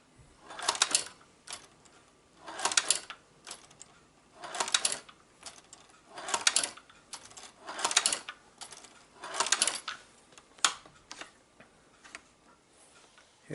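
A shoe patcher sewing machine stitches Vans sneakers in about seven evenly spaced bursts of rapid mechanical clatter, each lasting roughly a second, with quiet pauses between as the shoe is repositioned.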